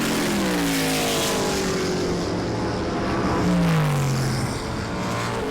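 F5000 race cars roar through the infield carousel at Ruapuna, loud engine notes rising and falling as they pass close by, under continuous racing noise.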